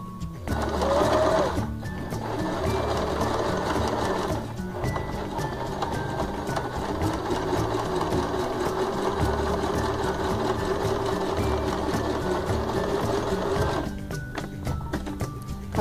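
A sewing machine stitches a fabric Halloween candy bag, its motor whirring in a continuous rapid rattle with a brief pause partway through, close and steady with no talk.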